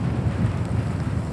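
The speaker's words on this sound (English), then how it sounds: "Oh, that's a lot of rain." Heavy rain pours down in Fanal Forest, Madeira, a dense, steady roar of rainfall with low rumbling wind noise, continuous and close throughout.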